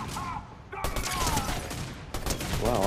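Gunfire in the Fortnite video game, Chapter 5 Season 4 around Rebel's Roost: dense bursts of shots crackling in quick succession through most of the stretch, mixed with game effects and a faint voice.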